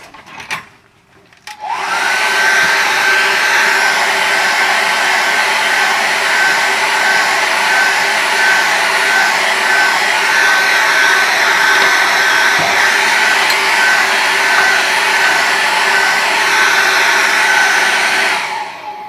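A hair dryer blows on acrylic paint during a landscape painting lesson, its loud, steady whirring whine starting after a brief click and running unbroken for about seventeen seconds with no talk.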